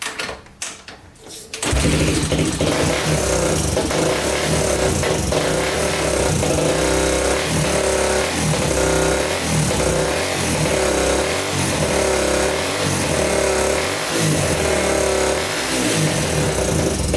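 A Honda ATC 350x three-wheeler, idling with the choke partly on and a suspected carburetor problem, sputters briefly before catching and settling into a loud, close, steady idle with a rhythmic throbbing pulse.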